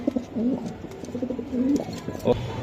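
Pigeons, including racer and Sirazi breeds, coo softly and repeatedly nearby, low rolling calls overlapping with faint rustling and background noise.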